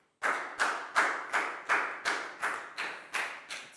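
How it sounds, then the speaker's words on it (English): A few hands clap in a steady, evenly spaced rhythm of about ten claps, close and moderately loud, a small classroom round of applause for a primary-school student during a maths lesson. "Big round of applause for Pat."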